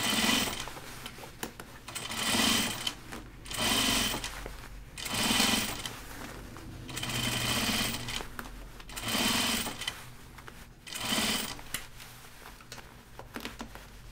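A sewing machine stitches denim for Ginger jeans in bursts, each a rapid mechanical chatter lasting a second or so and separated by short pauses, repeating about six times at close range.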